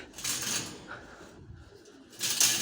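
A homing pigeon at a pigeon loft gives soft cooing calls, faint and near, amid light rustling and handling noise, with a louder burst of activity at the end.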